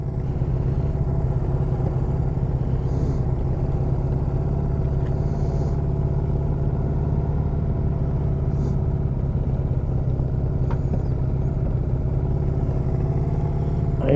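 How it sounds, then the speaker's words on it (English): A car drives close past a rider on a rainy road, its engine and tyre roar loud and steady throughout, with a brief rise as it draws near and passes. "Why this freaking car had to get so close to me?"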